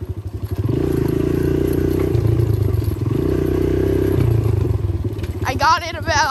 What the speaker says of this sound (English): this is a 2019 KLX 140.